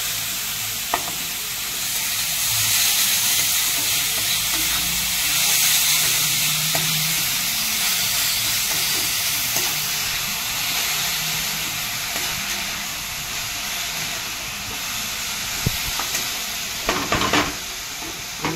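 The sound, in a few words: stirring beetroot with salt in a pan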